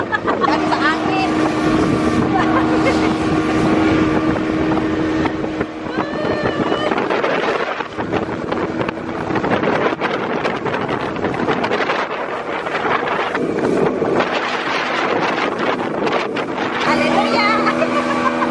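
A motorboat ride on open water, with loud engine drone, rushing water and heavy wind buffeting the microphone throughout, and a voice talking now and then over the noise.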